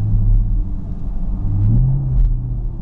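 A 2016 Chevrolet Camaro SS in snow mode eases out onto a snowy road, its V8 giving a steady, low, heavy rumble up close that swells slightly as it pulls away gently.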